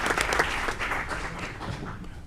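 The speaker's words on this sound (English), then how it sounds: "Let's go ahead and give them a round of applause." Applause at a city council meeting in Aurora, a dense burst of clapping from the room that stays loud and then gradually fades out.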